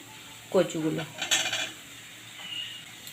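Fried taro pieces tip into a pan of spice paste cooked down with softened tomato in oil, for a vegetarian chickpea and taro curry. A brief run of clattering and scraping is followed by a faint, quiet sizzle.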